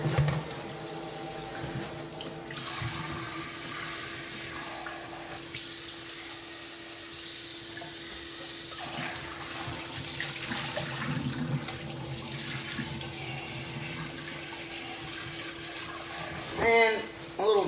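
Kitchen tap running steadily while a juicer is rinsed out at the sink, a constant splashing water rush that stays moderately loud throughout, with someone talking over it.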